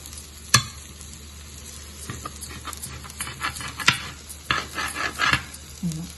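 Cut pieces of egg and vegetable omelette roasting in a pan, with a steady soft sizzle broken by sharp clinks and scrapes of a utensil against the pan, several louder knocks near the start and middle.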